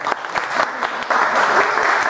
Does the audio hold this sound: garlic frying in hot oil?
no